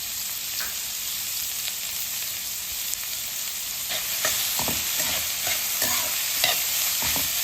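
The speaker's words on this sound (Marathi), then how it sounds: "कांदा चांगला आपण लालसर रंगावर परतून घेणार आहोत." Onion frying in a pan with salt added, stirred as it browns: a steady close sizzle runs throughout, with repeated scraping stir strokes growing busier toward the end, and no voices.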